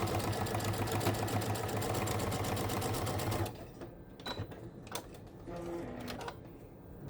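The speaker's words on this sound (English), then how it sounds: "we're gonna sew this on with the scant 1/4 inch" A sewing machine runs steadily, stitching a quilt block with a scant quarter-inch seam, its rapid needle rhythm close and continuous for about three and a half seconds before stopping, followed by quieter handling clicks and fabric shuffling.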